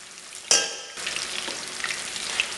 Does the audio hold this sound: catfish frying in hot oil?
yes